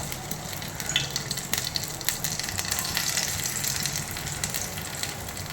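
Sandwich pieces fry gently in a frying pan with a small amount of oil, giving a continuous moderate sizzle dotted with small crackles and light utensil clicks, heard close and without voices.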